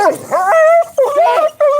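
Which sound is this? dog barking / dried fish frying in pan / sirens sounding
dog barking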